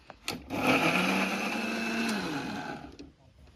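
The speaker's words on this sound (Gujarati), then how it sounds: "મિક્સર ચાલુ કરી દઈશું।" A kitchen mixer grinder whirs loudly for about two and a half seconds, blending onions with a little water into gravy for a village-style kaju ganthiya curry, then winds down.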